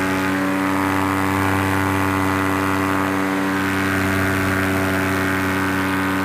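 Paramotor engine held near full throttle during a high-altitude climb, a loud, continuous droning buzz with strong steady harmonics and propeller roar, unbroken throughout.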